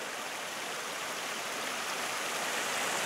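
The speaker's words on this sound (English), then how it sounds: "Looks like a small little bit of a trickle of a waterfall" A small trickling waterfall at Cataract Falls near Fairfax, California, gives a steady, even wash of rushing water with no other sounds.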